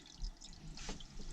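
Water drips and trickles from a leaking coil on a hot water tank aboard a narrowboat, faint close splashes with a brief louder spatter near the end.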